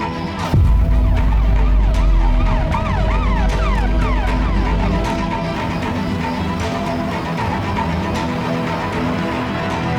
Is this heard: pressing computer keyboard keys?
no